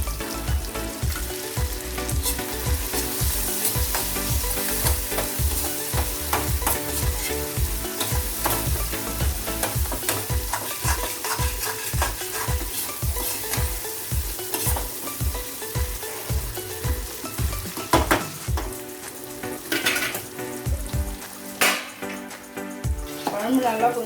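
Curry leaves frying in a pan for a prawn kuzhambu, a steady sizzle with repeated stirring and spoon-on-pan scrapes throughout, close and fairly loud.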